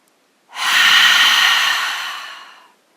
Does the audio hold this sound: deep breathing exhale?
yes